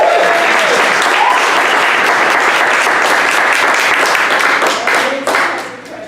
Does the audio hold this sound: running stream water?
no